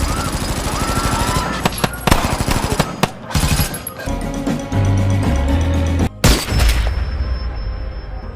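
Heavy automatic gunfire from a film massacre scene, dense rattling bursts and booming shots continuing almost throughout, loud and close, with brief gaps between volleys.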